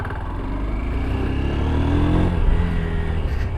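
Honda NX 200 motorcycle on a test ride, a continuous close engine drone with a slight swell in revs midway, loud and unbroken, no voices.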